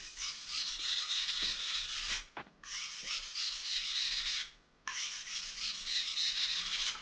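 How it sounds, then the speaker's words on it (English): A knife blade is drawn across a whetstone during sharpening, giving three long, steady rasping strokes separated by short pauses. The strokes sound close and fairly quiet, with no talk over them. "Then you want to run it across a couple times."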